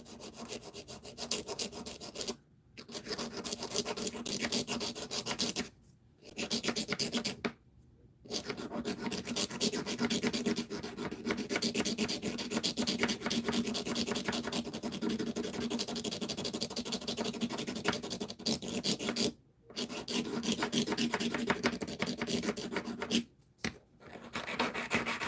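A polygel nail being filed down, a soft steady rasping rub that runs on in long strokes with a few brief pauses, close and quiet with no talking.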